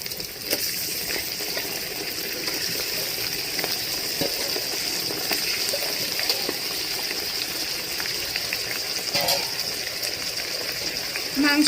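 Mutton hits a pan of lightly browned frying onions, giving a steady, close sizzle and hiss that carries on throughout with small crackles.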